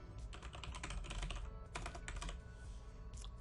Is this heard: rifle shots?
no